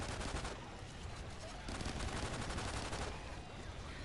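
Rapid dual-pistol gunfire in the Ghosts Extinction: Nightfall video game, a dense, loud volley of close shots continuing without pause, with a player's voice faintly mixed in.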